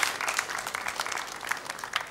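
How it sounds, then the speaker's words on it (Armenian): An audience breaks into applause, a fairly soft, continuous wash of many hands clapping that holds steady for a couple of seconds with no voices on top. "Եկեք ծափարենք"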